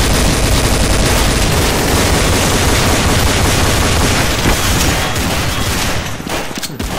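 Rapid, dense automatic fire from a silenced machine pistol in Counter-Strike deathmatch, a loud continuous rattle of shots that thins out near the end, with no talking.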